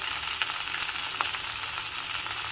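Chopped okra roasting in a pan gives a steady, even frying hiss that fills the whole stretch, with a few faint stirring ticks over it, close by and with no talk.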